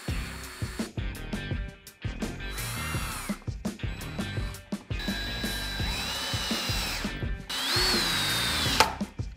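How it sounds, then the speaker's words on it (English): A power drill bores pilot holes and drives screws into wood for a stool, giving repeated short bursts of whining motor that rise and fall in pitch with brief pauses between, loud and close. "I'll drill pilot holes and drive the screws"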